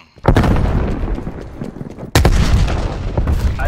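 Call of Duty Black Ops Cold War match on the Checkmate map in Domination mode: a burst of loud close gunfire, then a sharp grenade explosion midway followed by more dense shooting, all continuous and harsh.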